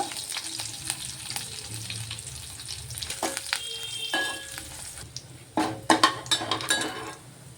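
Cumin, dried red chillies, curry leaves and a piece of ginger sizzle in hot oil for a tempering, with crackling pops and scraping, clinking stirs of a metal spoon in the pan, nearby and unvoiced.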